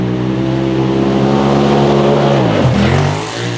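Polaris RZR Turbo R 4 Ultimate side-by-side driving on trails, its turbo engine droning loud and close at steady high revs, then dropping sharply as the throttle lifts near the end.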